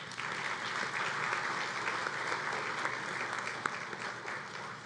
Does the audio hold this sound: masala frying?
no